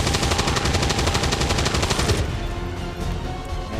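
Rapid automatic gunfire from a soldier's weapon in the turn-based strategy game XCOM, a dense stream of sharp, loud shots that stops abruptly after about two seconds, leaving a quieter rumbling tail.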